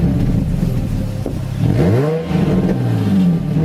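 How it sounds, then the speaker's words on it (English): Nissan 350Z's VQ35 V6 engine revving nearby, loud and throaty, with the pitch climbing and falling through two or three quick blips over a few seconds. "the VQ35 engine has a very distinct sound to it."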